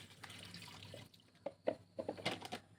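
Homemade date fertilizer is poured onto bean plants, giving a quiet run of liquid splashes and drips, close and sparse, after a short stretch of soft background hiss.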